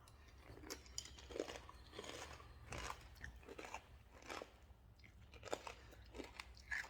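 Kind gluten-free cereal being crunched while eating, close and quiet, with repeated crisp bites and chewing crunches in an uneven rhythm and no talking.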